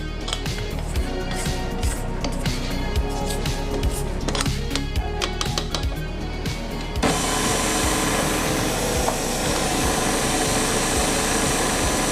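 A stand mixer kneading pizza crust dough, with a dense continuous motor whir and rhythmic thumping of the dough hook, loud and close, shifting to a steadier, louder roar partway through.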